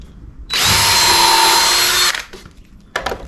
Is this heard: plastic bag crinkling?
no